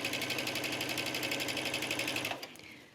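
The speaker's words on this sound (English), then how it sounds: "just go ahead and stitch all the way to the other end" A sewing machine stitching the back yoke seam of a trench coat at a 3.0 stitch length, running in a fast, even whir of rapid needle beats close up, then stopping abruptly near the end.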